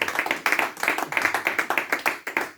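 A church congregation claps to acclaim the glory of God, a dense room of hands striking in a steady, quick rhythmic beat, close and lively, with a faint voice underneath.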